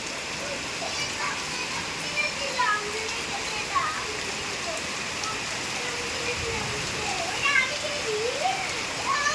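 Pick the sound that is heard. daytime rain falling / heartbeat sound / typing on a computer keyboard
daytime rain falling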